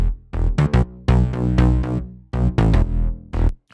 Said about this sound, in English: there's a little reverse version of the bass I have